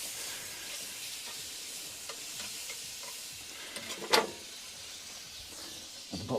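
Butter sizzles in an overheated frying pan with a constant crackling hiss, broken by a few sharp clinks and scrapes of a utensil and one louder burst of spattering.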